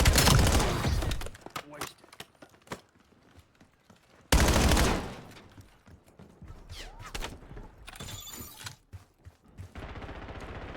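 Gunfire in the Call of Duty: Black Ops 7 video game, playing on a ROG Xbox Ally X handheld: loud bursts of shots and sharp impacts with brief gaps, then quieter scattered cracks and clatter.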